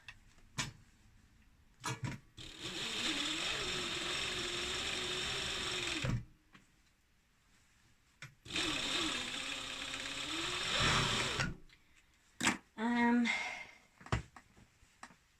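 Domestic sewing machine stitching the back seam of a pair of trousers, running in two long steady bursts of several seconds each with brief clicks and handling sounds between, close and loud.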